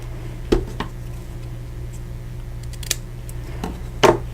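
Scissors snip a paper banner for a handmade card, with a few sharp separate cuts spaced over a few seconds against a quiet room hum, close and without talk.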